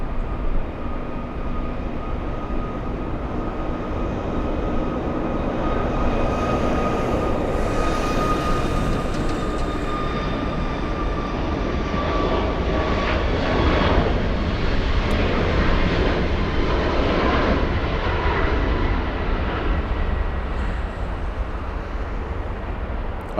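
An American Airlines Boeing 737 MAX 8 takes off at an airport, a loud, steady, broad jet engine roar that holds and swells for the whole stretch, with no talk.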